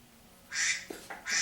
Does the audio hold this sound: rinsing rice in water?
no